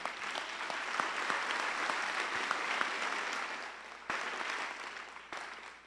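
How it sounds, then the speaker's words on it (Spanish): Steady applause from a large church congregation during a sermon fills the space, holding loud and dense for several seconds before tapering slightly, with a few sharper claps standing out. "Dale ese aplauso al Señor."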